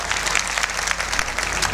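An audience at a Hanuman Jayanti gathering in Rajgarh claps in a brisk, steady burst of applause, moderately loud and continuous for a couple of seconds.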